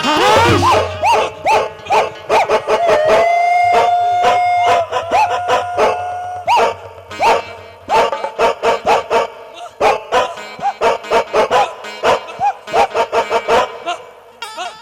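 On stage at a nacha comedy show in Dongargarh, a performer imitates a barking dog: loud, close, rapid runs of bark-like yelps in a quick rhythm, with sustained musical tones beneath the first half.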